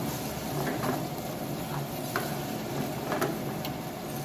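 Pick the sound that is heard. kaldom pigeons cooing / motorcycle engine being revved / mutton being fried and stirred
mutton being fried and stirred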